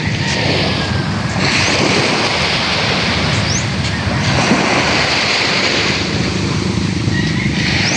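Sea waves wash steadily onto the shore, a continuous broadband roar with wind buffeting the microphone throughout, loud and close with no talking.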